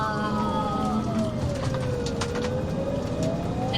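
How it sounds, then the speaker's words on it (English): Ambulance siren on a Priority 1 lights-and-sirens emergency response, a steady wailing tone that sweeps down and up over continuous road and engine rumble, heard from inside or close to the vehicle throughout. "Difficulty breathing is classed as a Priority 1 emergency, meaning a lights and sirens response."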